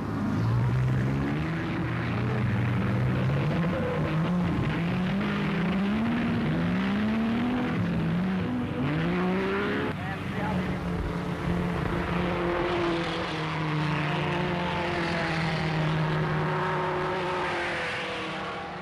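Mercedes Silver Arrow race cars from the 1930s roar past, a loud sustained engine howl with rising and falling pitch sweeps as they accelerate and pass, overlapping continuously without speech.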